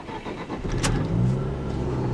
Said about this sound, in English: the engine has a rather raspy, loud sound at startup